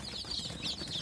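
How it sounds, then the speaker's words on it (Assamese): Local chicken chicks on a farm give soft, overlapping high peeps and clucks, close and fairly quiet, in a brief stretch. "এইবিলাক হ'ল আমাৰ লোকেল মুৰ্গী পোৱালি"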